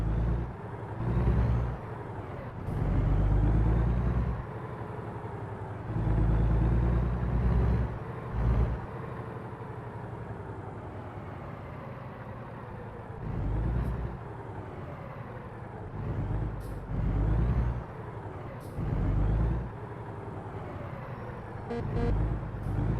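In American Truck Simulator, a tractor-trailer pulls away in gear. A loud, steady low diesel drone rises and falls through gear changes, broken by short hissing air bursts.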